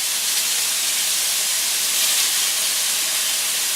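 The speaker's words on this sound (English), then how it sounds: "I am going to put my meat in the pan." Lean beef hitting a hot pan, a loud, close, continuous sizzle that holds steady throughout with no talk.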